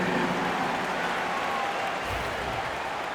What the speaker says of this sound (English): Let's do a big round of applause to the Lakers youth dance team.